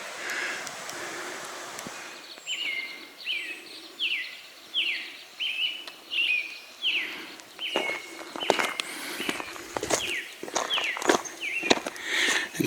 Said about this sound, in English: I get the lovely springtime sound of birds in the early morning